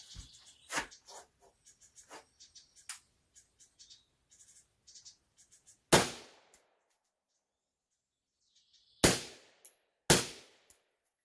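Three sharp, loud gunshots fired into a bullet trap at 25 yards crack out several seconds apart, with quiet handling clicks and small metallic sounds before them.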